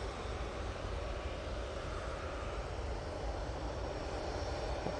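Air tanker aircraft engine at Manchester Airport, a steady loud roar that stays constant and broad throughout, with no voices over it.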